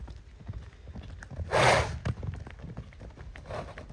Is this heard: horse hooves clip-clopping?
yes